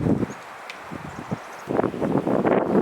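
Wind blows outdoors on a farm in warm weather, rumbling and gusting against the microphone in uneven surges that grow stronger toward the end.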